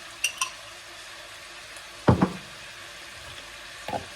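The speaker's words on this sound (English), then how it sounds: "We're going to mix all that up together, the spring onions, the chicken, the garlic." Garlic, spring onions and chicken frying for nasi goreng in a pan, with a quiet background sizzle broken by a few sharp spoon scrapes and clanks against the pan.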